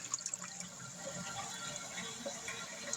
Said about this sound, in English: we've got a nice, big, powerful flush